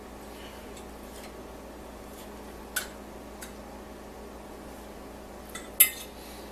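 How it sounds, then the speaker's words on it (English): Egg puffs are lifted from a metal muffin tray into a dish, with a few sparse light clinks and taps over a quiet, steady background. "I'm just going to pull these out and put them in this dish."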